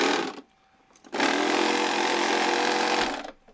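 Battery-powered Gears of War chainsaw toy gives a brief buzzing burst, falls quiet, then runs in a loud, steady electronic whir for about two seconds before cutting off, heard up close with no talking.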